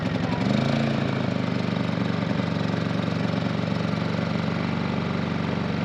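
A brand-new Honda engine runs at a steady idle right after its first pull, a close, even, loud mechanical drone throughout with a fine regular pulse.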